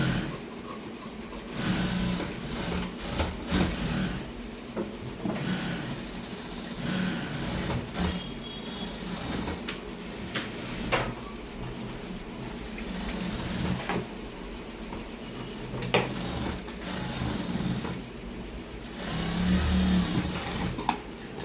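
A sewing machine double-stitching the seams of a dress, running in a steady mechanical whir with short pauses and restarts, close by and with no speech.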